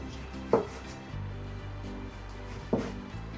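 Two sharp knife chops on a cutting board, spaced a couple of seconds apart, over a low kitchen hum.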